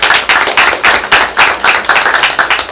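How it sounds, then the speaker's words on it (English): Rhythmic group clapping for a high school principal at a school board meeting, loud and close, with a regular beat of about three to four claps per second. "Y'all give Brian a round of applause"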